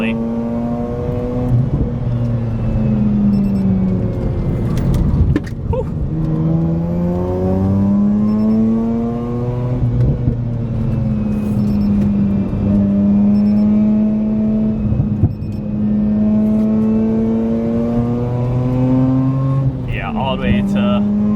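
A Mazda RX-8 rotary engine revs hard through repeated climbing and falling pitch sweeps, loud and close, with a smooth buzzy tone and brief pauses between pulls.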